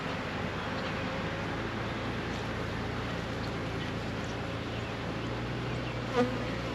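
Honeybees buzz steadily and close by while a spring split hive is opened and inspected with smoke, a dense continuous hum that holds throughout with one brief louder blip near the end.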